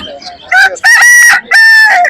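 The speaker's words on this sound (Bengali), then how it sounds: "এটা অরিজিনাল দেশি মোরগ" A native country rooster crows loudly and close at a busy bird market, with a short clucking lead-in followed by two long, strained cock-a-doodle-doo calls.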